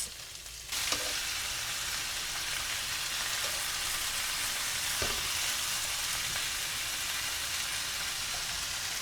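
Thin slices of garlic fry in a pan, sending up a loud, steady, bright sizzle with a faint crackle. After a short quieter start the sound holds constant and close, broken now and then by soft pops.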